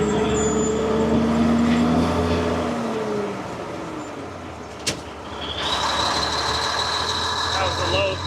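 A truck pulling a manure spreader on a farm, its engine droning loudly as revs fall through a gear change into low third and then climb again, with a brief clunk and talking over it.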